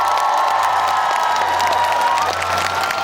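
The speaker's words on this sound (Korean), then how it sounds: "큰 박수 한번" A large outdoor audience at the Dunnae highland tomato festival claps and cheers loudly and continuously, with whoops and shouting voices mixed into the roar.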